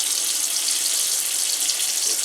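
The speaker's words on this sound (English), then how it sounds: "turn the water back on" Water running steadily from a Moen kitchen faucet into a sink, a constant loud hiss with no pauses.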